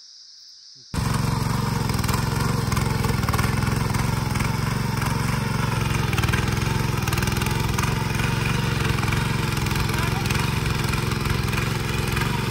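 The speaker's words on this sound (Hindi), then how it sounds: "तो चलो तेल डालते हैं पहले ट्रैक्टर में, फिर चलाते हैं।" A tractor engine, silent at first, then kicking in abruptly and running at a steady, loud, droning idle with a constant low rumble for the rest of the clip.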